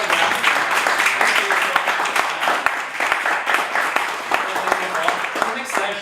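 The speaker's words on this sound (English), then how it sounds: "So now maybe we give a big applause to" Conference attendees clap at the close of a session about the RISM music-sources project, a moderate crowd applause with scattered sharp individual claps and some talk mixed in.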